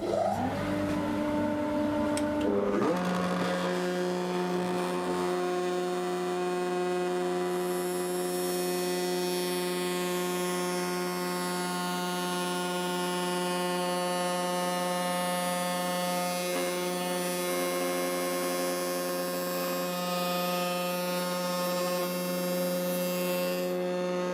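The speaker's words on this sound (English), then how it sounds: "it's going to test the vacuum at the same time" A workshop vacuum runs steadily in a woodworking shop during tenon cutting, a loud, continuous motor hum with strong tonal whine that starts up in the first seconds and holds constant throughout, with no talk over it.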